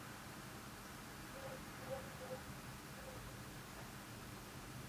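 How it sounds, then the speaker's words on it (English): A faint, steady whoosh of a laptop cooling fan runs continuously, soft airy hiss with no other sounds and no voices. "After all this, my laptop now sounds like this."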